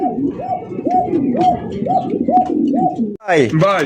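Pigeons at a pigeon farm coo in a loud, close, rhythmic series of repeated rolling coos, broken briefly before a final burst of calls.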